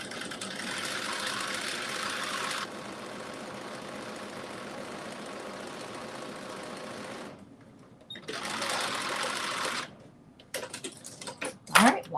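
A sewing machine stitching a 5/8-inch seam on dressy joggers runs in close, loud bursts: a fast stretch, a slower steadier run, a pause, another burst, then a few short stop-start spurts.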